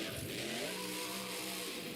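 The Gravedigger monster truck at a Monster Jam world finals event, its engine roaring steadily and loudly throughout a wheelie, with dense crowd-arena noise underneath.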